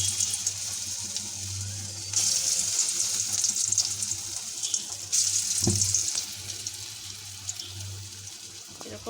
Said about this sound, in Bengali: এখন আমি পেঁয়াজটা ভাজবো